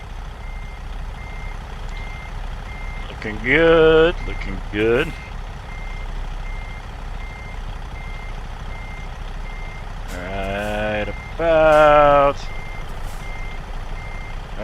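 Reversing beeps from a truck in American Truck Simulator, a faint steady chain of evenly spaced beeps over a low engine idle, with someone talking loudly in two short bursts on top.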